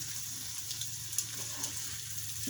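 Tomatoes fry in a pan alongside Spam and eggs, giving a steady, even sizzle that runs throughout with no talking.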